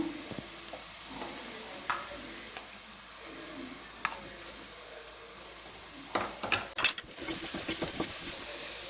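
Crushed chili sizzles steadily in hot oil in a pan, with a soft continuous fry and scattered clinks of a spoon stirring against the metal, busier toward the end.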